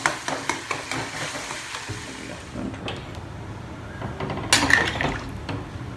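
Chickpea curry (chole) with boiled chickpeas cooking in a pan, with soft sizzling under repeated scraping stirs and occasional clinks of utensil on metal, close by.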